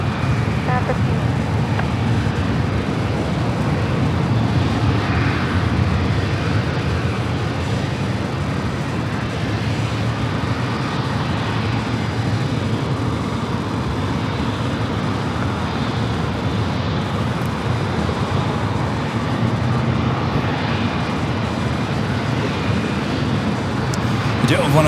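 Steady broadband jet roar at San Diego airport as an airliner takes off, a continuous loud rumble holding level throughout with faint radio talk beneath.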